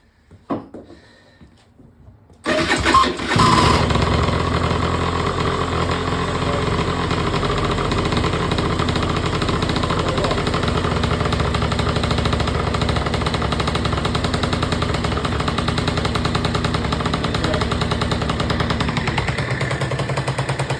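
After a brief quiet moment with a few attempts, the small two-stroke engine of a Peugeot Speedfight 2 100cc scooter catches and runs steadily at a loud, buzzing idle.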